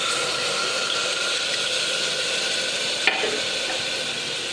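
Chili and coriander powder mixed into boiled water is poured into masala frying in a pan for a black chicken curry. A steady sizzle and bubbling hiss continue with a brief clink partway through.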